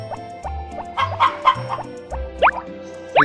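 Chickens clucking in the farming video game Harvest Moon: Back to Nature, a run of short, close, loud clucks over a repeating game jingle, with two rising squawks near the end.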